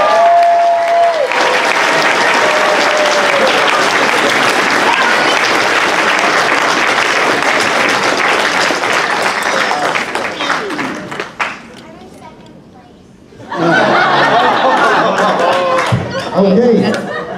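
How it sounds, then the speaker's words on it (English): An audience at a fan convention costume contest applauds the young winners in a loud sustained wave of clapping and chatter, which fades briefly, then swells again with a second burst of applause. "A round of applause once again for our young fans, the winners and our almost winners in the back."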